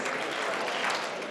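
A conference audience at Agile Maine Day breaks into a short, dense burst of clapping as a call-and-response, heard faintly and alone.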